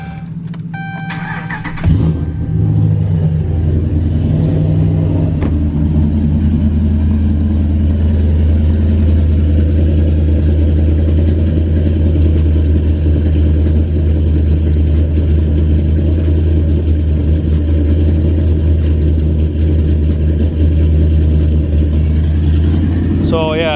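A truck engine, a 6-speed pickup, idles loud and close with a steady low rumble, then catches a sharp rise near the start. Its throaty drone holds for the rest of the stretch. A voice comes in briefly.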